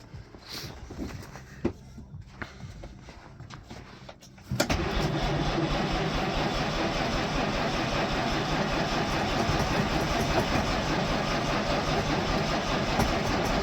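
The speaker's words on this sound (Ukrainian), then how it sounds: "Заводимо зразу на газу." A GAZ 52 truck engine run on gas catches after some clunks and rustling, then settles into a loud, steady, rumbling idle close by.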